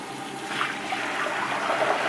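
Fresh water rushes down a sink or tub drain just cleared of a hair clog, a steady close gurgling flow that runs unbroken for the whole stretch.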